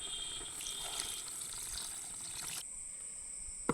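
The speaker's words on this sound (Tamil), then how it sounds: "எல்லாம் போட்டு வதக்கியாச்சு தண்ணி ஊற்றிக்கலாம்." Water pours steadily into a pot of chicken curry being cooked village style, a soft continuous splash and trickle that cuts off before the end, heard up close and quiet with no talk.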